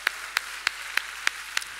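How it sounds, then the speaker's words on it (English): Applause from a church congregation, heard here as a handful of sharp, evenly spaced claps about a third of a second apart, crisp and fairly close against a quiet room. "Give them a big round of applause."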